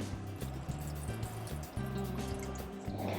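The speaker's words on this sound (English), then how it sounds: "And while I'm here, I'll go ahead and add some more water." Water trickles and drips into potted garden plants, a soft, steady pouring and splashing close by, with a faint low hum underneath.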